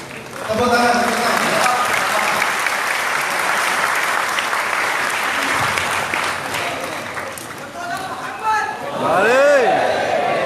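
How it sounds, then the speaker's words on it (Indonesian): An audience at a gathering breaks into loud, continuous clapping that fills the room, with a few voices rising over it near the end as the applause briefly dips and swells again. "Tepuk tangan kita."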